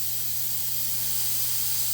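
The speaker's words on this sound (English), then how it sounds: "So I'm not using the mist in this mister, just using the air to blow chips out" Compressed air from a mister, run without mist, blows chips off a carbide-tool cut on a lathe, giving a steady close hiss with a low hum beneath and no talk.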